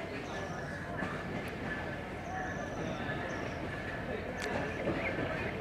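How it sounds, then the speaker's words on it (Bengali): Panchagarh Express hauled by an American EMD diesel locomotive rolling into Natore railway station in Bangladesh, a steady rumbling rail drone with faint squeals and background voices on the platform. "10 মিনিট বিলম্বে পঞ্চগড় এক্সপ্রেস নাটোর প্রবেশ করছে।"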